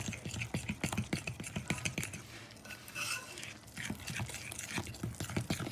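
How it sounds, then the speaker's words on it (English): A fork beats pancake batter in a bowl, a rapid run of close, bright metallic clicks and scrapes against the side that pauses briefly near the middle before carrying on at the same busy pace. "we're gonna just mix this up with a fork until it's smooth"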